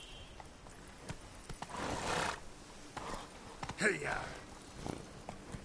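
Roach, the horse in The Witcher 3 video game, lets out a loud neigh with hoof clip-clops around it, while someone says a few words over the sounds.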